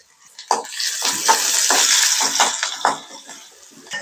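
Sliced onions with a pinch of salt frying in hot oil for a fish curry, a steady bright sizzle broken by repeated clattering stirs of a spoon against the pan.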